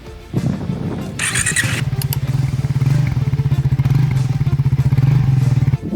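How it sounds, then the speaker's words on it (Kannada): A Triumph Scrambler 400X motorcycle cranks with a brief whirring starter, then catches and settles into a loud, close, evenly throbbing exhaust at idle, steady to the end. "ನೆಕ್ಸ್ಟ್ ನಾವು ಇವಾಗ ಗಾಡಿಯ ಇಂಜಿನ್ನ ಆನ್ ಮಾಡಿ ಎಕ್ಸಾಸ್ಟ್ ನೋಟ್ನ ಕೇಳಿಸ್ಕೊಳ್ಳೋಣ"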